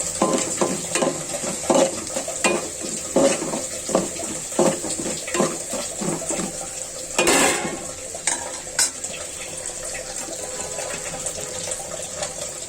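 Dried fish frying in oil with garlic and onion while being stirred, with steady sizzling and repeated scraping strokes of a spatula against the pan, plus a few clinks of utensils, close and fairly loud.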